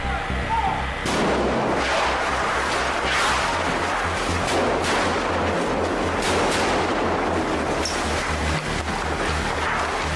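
Film-set explosion from the 1997 movie Anaconda, staged to collapse a giant tower and throw a burning animatronic anaconda into water: a loud, sustained roaring blast with crackling debris and deep rumble filling the whole stretch, no voices.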